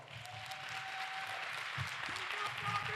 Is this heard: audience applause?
yes